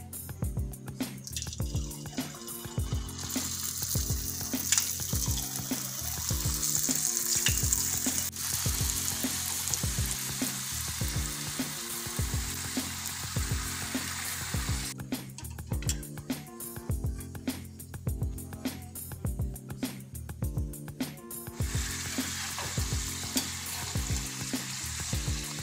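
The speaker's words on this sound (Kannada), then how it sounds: "ಎಣ್ಣೆ ಕಾಯ್ದಿದೆ, ಫ್ರೈ ಮಾಡ್ಕೊಳ್ಳೋಣ." Palak papadi snack pieces deep frying in hot oil, a steady close sizzle and bubbling that runs continuously with brief dips and swells, no talking over it.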